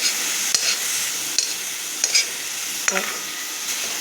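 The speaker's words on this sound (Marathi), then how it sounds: "अशी पूर्ण भाजून त्याला तेल सुटेपर्यंत भाजून घेऊया" Tomato masala roasting in oil in a pan until the oil separates, giving a steady bright sizzle with a few stirring clicks and scrapes, close and continuous.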